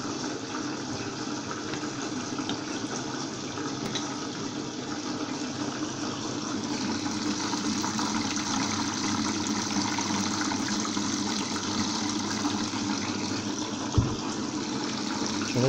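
An Arçelik washing machine fills with water during a 60-degree cotton wash, a steady, even rush and gush of water that runs on unbroken and close, with no voices.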